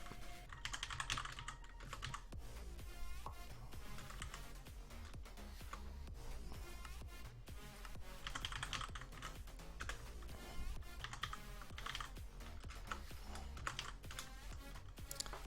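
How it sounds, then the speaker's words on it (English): Rapid, steady typing on a computer keyboard clatters continuously throughout, close and fairly quiet, with no voices. "Typing."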